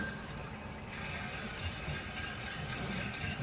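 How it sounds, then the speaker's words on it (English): Water runs into a toilet tank through a newly replaced fill valve, a steady hissing rush that swells slightly after the first second and keeps flowing evenly, moderately quiet, with no talking. "now let's turn our water on."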